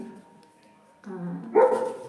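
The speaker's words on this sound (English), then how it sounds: "He keeps barking." A dog barks indoors during a skincare talk, a couple of short, moderately loud yips and barks heard close by after a quiet stretch, with a faint hum in the background.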